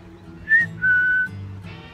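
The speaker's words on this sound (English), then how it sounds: "That was me whistling." A person whistles a short tune alone: a brief high note followed by a longer sustained one, fairly close and clear.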